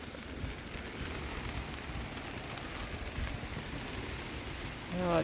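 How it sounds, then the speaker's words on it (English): Steady rain and wind batter the outside of a tent at a windy campsite, a constant dense hiss and patter heard close up with no talk. "especially in this rain and wind"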